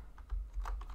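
Quiet keystrokes on a computer keyboard during a JavaScript coding session, a few soft, irregular clicks close by with no talking.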